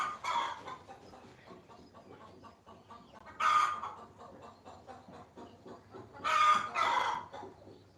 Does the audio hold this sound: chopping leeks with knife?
no